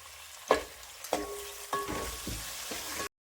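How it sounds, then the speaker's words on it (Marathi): Tomatoes tipped onto frying onions, each addition setting off a sharp burst of sizzling; about five bursts in a row over a steady frying hiss, with no talk. "पूर्ण कांदा पेटला की लगेच टाकायचं टमाटर"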